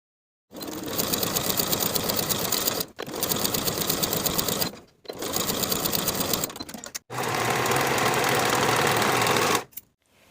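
A sewing machine runs in four steady bursts while stitching a half-inch seam on a garment panel, its rapid mechanical whir loud and close, with short pauses between runs and the last burst the longest.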